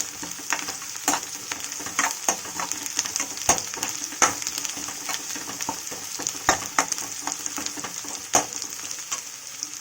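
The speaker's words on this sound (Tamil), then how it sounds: "வெங்காயம் போட்டோம், நல்லா ஃப்ரை ஆகட்டும்" Onions frying in hot oil in a pan give a steady, close sizzle with scattered sharp crackles and pops throughout, and no one speaks.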